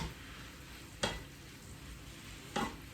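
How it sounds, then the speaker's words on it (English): Minced meat frying quietly in a pan with a low, steady sizzle, broken by two brief scraping stirs about a second and a half apart. "fry it and try it, it will be much better. Stir your mince occasionally as well."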